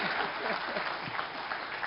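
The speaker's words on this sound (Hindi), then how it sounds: "खड़े होकर ताली बजानी चाहिए, खड़े होकर ताली बजानी चाहिए" A studio audience at a Sufi music awards event gives a standing ovation, dense continuous clapping from a large crowd, steady and fairly loud throughout.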